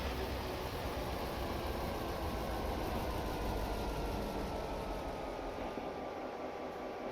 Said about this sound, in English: It actually sounds sort of cool when it's revving low, this locomotive